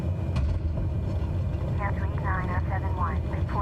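A Cessna 208 engine drones steadily in Microsoft Flight Simulator, a constant low rumble, while a voice talks over it.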